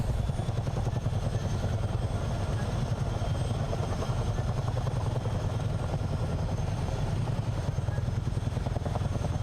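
Steady rotor thump and turbine whine from a CH-47 Chinook helicopter in Microsoft Flight Simulator, a dense continuous drone that holds loud and unchanging with no talk over it.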